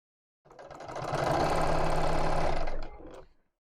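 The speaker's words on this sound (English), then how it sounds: "just sewing around in a circle" A sewing machine runs a top stitch in one continuous burst, a close, loud mechanical whir with a rapid stitching rhythm that rises, holds and then winds down to a stop.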